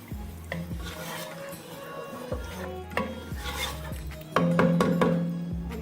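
Soaked rice is stirred into mutton stock in a pot for a mutton pulao, with a spoon scraping and knocking against the metal at irregular intervals over a steady background hum, close by.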